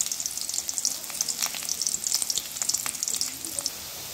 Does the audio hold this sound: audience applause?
no